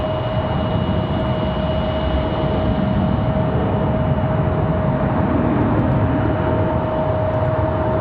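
A jet airliner at Raleigh Durham International Airport gives off a continuous, loud, steady engine roar with a sustained whine, unchanging over several seconds.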